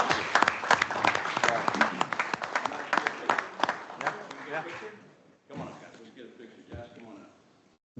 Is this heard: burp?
no